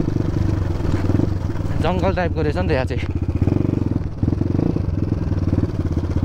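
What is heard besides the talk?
enduro motorcycle engine braking on an off-road ride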